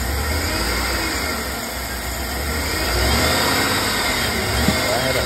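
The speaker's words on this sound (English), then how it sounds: "Well, I can even rev it up quite well" A woodgas-powered Chevrolet Tahoe runs on gas from a wood gasifier. Its engine hums loudly and steadily close by, then swells as it is revved up, with no break in the sound.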